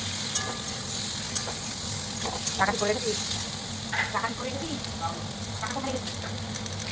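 Boiled giant taro (mankochu) fries in a pan with black cumin seed tempering, a steady close sizzle broken by stirring scrapes, with a voice talking over it in places.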